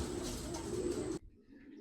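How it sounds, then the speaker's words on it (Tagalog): Homing pigeons returning to their loft coo in a low, throaty burst that cuts off abruptly after about a second, followed by faint quieter cooing in the background. "Yan yung mga ibon natin"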